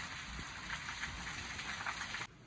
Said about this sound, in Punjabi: ਮਾਸ਼ਾਅੱਲਾ ਪੂਰੇ ਇਲਾਕੇ 'ਚ ਇਸ ਤਰ੍ਹਾਂ ਬਾਰਿਸ਼ ਜਾਰੀ ਹੈ